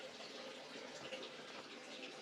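A toilet being flushed during a plumbing repair on a running toilet, a steady rushing and gushing of water, even and fairly quiet, with no pauses across the whole span.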